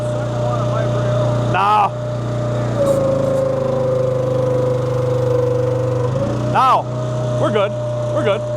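A Wolfe Ridge 17VS log splitter's engine drones steadily and loudly beside a woodyard stacked with big white oak rounds, its pitch lifting and holding higher as the throttle comes up, with people talking over it.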